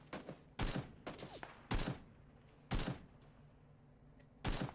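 Gunshots in a shooter video game ring out at intervals, four sharp loud cracks spaced about a second apart with quieter thuds and movement between them, no talking.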